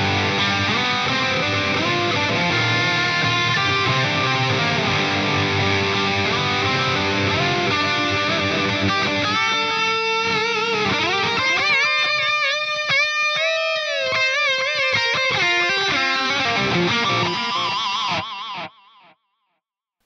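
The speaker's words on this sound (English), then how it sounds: "I just use the standard mono digital delay with a bit of high cut in there." Overdriven electric guitar lead through an Axe-Fx III with a mono digital delay rolled off by a high cut, sustained notes and quick phrases trailing soft repeats that fade out at the end.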